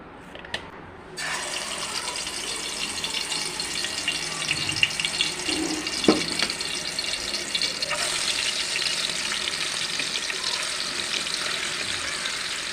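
Chicken shallow-fries in a pan of oil, giving a continuous close sizzling hiss that rises when the pieces go in and stays steady, with no talking.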